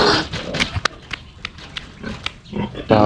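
Pigs kept as farm animals in Nueva Ecija grunt and squeal in short bursts, several overlapping calls near and loud, with other poultry likely around and no talk over them.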